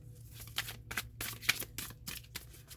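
A deck of tarot cards is shuffled close up in a quiet room, a series of soft riffling bursts and papery flicks coming in quick irregular pulses, with no talk.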